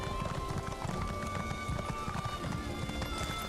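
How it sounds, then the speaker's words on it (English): An armor-clad horse in Elder Scrolls Online trots with steady, rhythmic hoofbeats, up close and fairly loud, under a faint rattle of metal and with no one speaking. "let's get our loud armor-clad horse to come out here."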